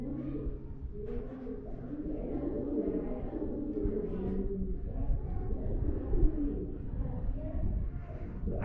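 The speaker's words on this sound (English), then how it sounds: "I do love hearing that very echoey cooing of the doves." Doves coo in soft, low repeated phrases that ring with a hollow echo inside the Cave of Munits in El Escorpión Park, with faint voices now and then.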